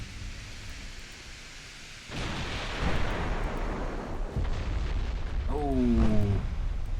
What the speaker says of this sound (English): Oh, that is a nasty flooding hit on the Moltke